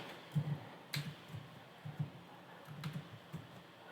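Keys tapping on a computer keyboard while someone types a database query, a few quick soft clicks at a time with short pauses between bursts, close and fairly quiet.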